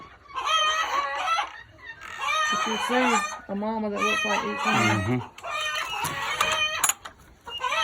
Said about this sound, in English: anybody need any roosters? We got some roosters we need to get shed of.